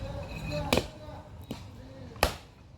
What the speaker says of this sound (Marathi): नारळ फोडायला चला